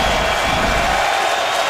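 A football stadium crowd roars steadily as the Titans host the Browns on third down, a dense, continuous wall of cheering that stays loud and unbroken throughout.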